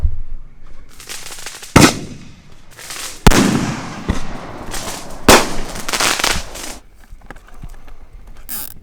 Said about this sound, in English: this is so many fucking fireworks